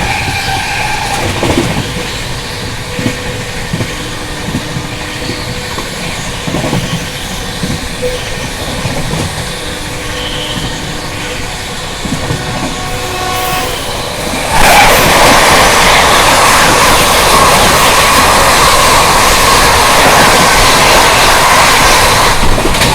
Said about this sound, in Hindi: और अभी अपनी यहाँ पे क्रॉसिंग होने वाली है नई दिल्ली हावड़ा राजधानी एक्सप्रेस के साथ।